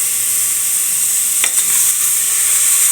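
Spices, onion, tomato and garlic sautéing in a pan for bone soup, giving a loud, bright, continuous sizzle with a brief stirring clatter partway through and no voices.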